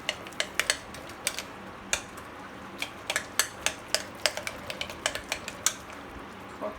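A spoon scrapes and taps against a bowl at irregular intervals as mashed sweet potatoes are mixed into a cream cheese mixture. The clicks are sharp and close over a quiet background.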